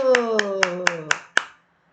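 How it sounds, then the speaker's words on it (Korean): Six crisp hand claps in a steady, even rhythm, close and fairly loud, sounding over a single speaking voice before trailing off into silence. "국무회의를 해나가는데 박수를 보냅니다. 박수."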